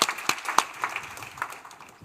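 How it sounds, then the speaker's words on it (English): Audience applause at an energy conference: a thin, scattered patter of claps from a small crowd, a few sharp ones up front, fading away over two seconds. "So, applaud."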